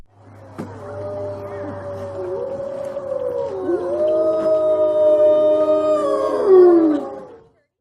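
A chorus of wolves howls in long, sliding overlapping tones, building gradually in loudness with a brief thump at the start, then swelling to a peak before cutting off.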